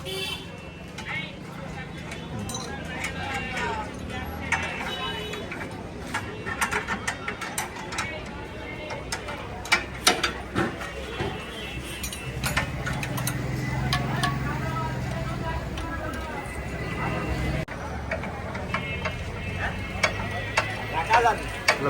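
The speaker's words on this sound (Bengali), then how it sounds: "বেল টাইট দেওয়া হচ্ছে" Workshop tightening of the belt and nuts on a Dongfeng power tiller, with a steady run of ratchet clicks and metallic mechanism clatter close by, going on continuously under background voices and general shop noise.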